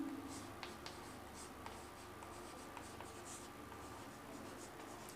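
Pen scratching steadily across paper while handwriting a coordination compound's name, a soft continuous scrawl with small taps, close and quiet under a low background hum.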